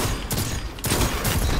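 Hand cannon gunfire in a video game, a few loud sharp shots punching through dense, continuous battle noise across the short stretch, with a louder burst near the end.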